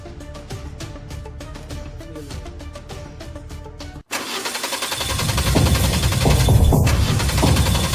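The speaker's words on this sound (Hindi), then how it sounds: "अरे यार ये गाड़ी स्टार्ट क्यों नहीं हो रही अब?" A car engine being cranked but failing to start. After a few seconds of music, a loud, rough churning of the starter and engine comes in and continues, close and steady.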